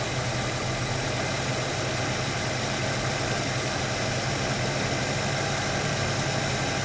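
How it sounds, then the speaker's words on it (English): A Ford Capri Mk I 3000 GT XLR engine runs on a weak mixture during carburettor adjustment, a steady, dense idling drone with a low throbbing pulse and no talking over it. "you can hear the revs drop immediately because it's too weak again."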